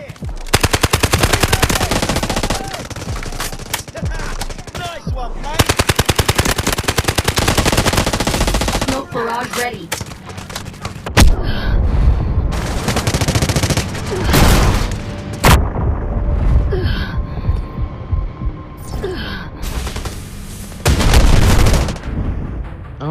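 Gunfire in the mobile video game Delta Force, with long loud bursts of automatic fire alternating with single shots and booms, separated by brief pauses, and a voice speaking faintly at times.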